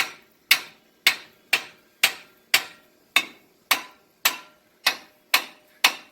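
A hammer strikes the threaded end of a ball joint on a 2004 Ford F-350 Super Duty, giving twelve sharp metallic whacks at a steady, close rhythm, each ringing briefly before the next, with no talking.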